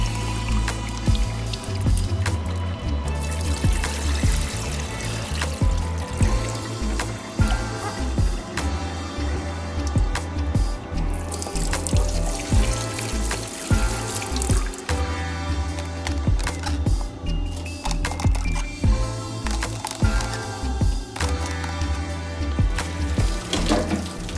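Grapes are rinsed under a running kitchen tap: a continuous stream of water splashes and pours, with occasional clatter and dripping from handling the fruit, close and loud throughout.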